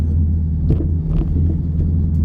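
A warmed-up straight-piped Camaro idles with a deep, steady exhaust rumble, close and continuous, with slight throttle surges.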